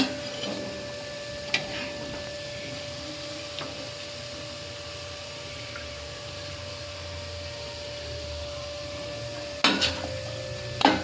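Muthiya dumplings for undhiyu fry in hot oil with a faint, steady sizzle, marked by a few sharp clinks of a utensil against the pan near the start and end.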